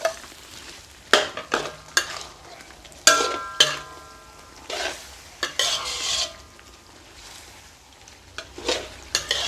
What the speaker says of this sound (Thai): ผัดไปเรื่อยให้มันเข้ากันได้ดีเลยพริกแกงกับพวงไข่อ่อน